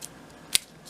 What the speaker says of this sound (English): Snip it.